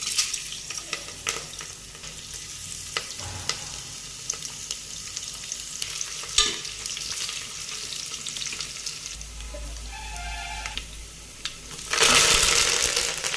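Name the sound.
tempering spices frying in hot oil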